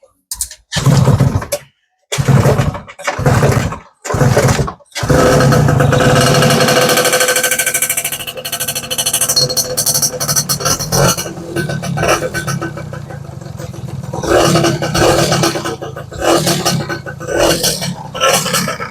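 A Yamaha Y110SS motorcycle under restoration cranks in short bursts, then starts and settles into a steady old-school idle with revving, loud and close throughout.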